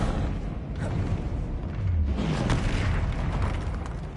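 Confringo blast spell explosions in the video game Hogwarts Legacy, a deep rumbling boom with rolling low-end impacts over continuous dense game noise, loud and sustained.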